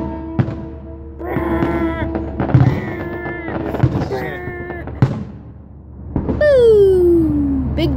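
Fireworks going off on the Fourth of July, a few sharp bangs among crackling under close, animated voices shouting and chatting, one voice imitating the booms.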